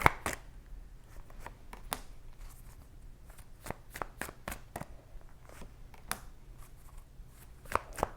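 Tarot cards being shuffled close by, in bursts of quick riffling and soft slapping taps separated by short pauses, fairly quiet.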